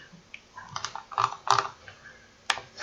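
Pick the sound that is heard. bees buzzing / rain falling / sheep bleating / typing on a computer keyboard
typing on a computer keyboard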